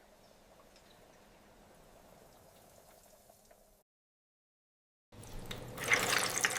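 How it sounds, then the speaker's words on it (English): Steady bubbling and crackling of chicken frying in hot oil, a sharp drop to silence, then a louder burst of vigorous sizzling with spattering hiss. "Hot oil is ready to cook the chicken perfectly."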